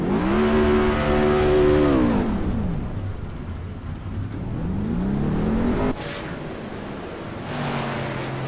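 Race trucks at Chicagoland Speedway in the iRacing simulation: loud engine whines sweep down in pitch as vehicles pass, fading to a lower drone before another truck rises and falls away.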